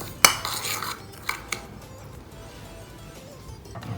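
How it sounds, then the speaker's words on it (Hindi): A spoon mixes salt, red chilli powder and garam masala in a bowl for spiced paratha, giving a sharp clink, a few lighter taps, then a soft faint scraping, with no talk. "तीनों चीज़ों को मिक्स कर लेना।"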